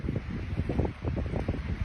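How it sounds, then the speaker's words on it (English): Strong wind buffets the microphone in continuous gusty rumbles, loud and close, with no voices. "it is ridiculously windy out right now"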